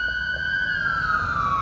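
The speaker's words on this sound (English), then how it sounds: "Another senior ambulance racing urgently." A senior care ambulance siren wails steadily and close by, a strong single tone sliding gradually downward with fainter harmonics above it, loud and continuous over low traffic rumble.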